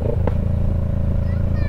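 A big bike motorcycle idles with a loud exhaust, a deep steady throbbing rumble close by, and a person talks briefly over it.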